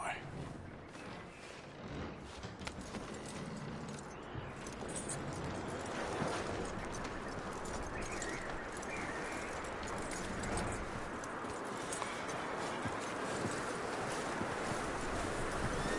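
Horse hooves clip-clopping at a steady pace in the video game Red Dead Redemption 2, with continuous wind and ambient outdoor noise around the rhythmic steps.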